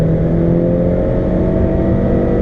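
Honda Civic EX-T turbocharged engine pulling hard from highway speed to pass a truck, a loud steady drone with road and wind noise heard from inside the cabin, no talking.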